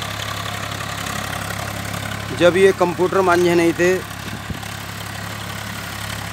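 A Swaraj 855 FE tractor pulling a laser leveler idles with a steady low engine drone, close and continuous, while someone speaks briefly over it.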